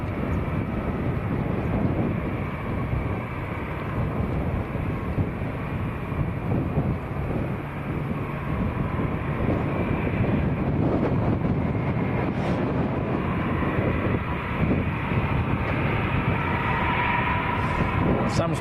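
A Volotea airliner departs Lanzarote airport bound for Nantes, its jet engines a broad, steady roar heard at a distance with wind buffeting the microphone, while a person talks over it.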